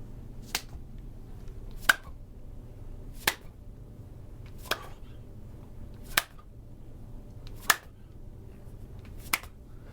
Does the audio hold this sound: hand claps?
yes